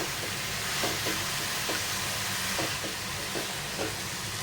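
A coconut filling with ground sesame and poppy seeds is stirred in a pan over medium heat, giving a steady soft sizzle with faint repeated scraping strokes, alone and without talk.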